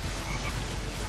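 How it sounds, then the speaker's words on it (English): A frog croaks in the video game Saints Row: Gat Out of Hell, heard as a short burst of low, rough croaking over a steady, loud noisy game background. "Frog!"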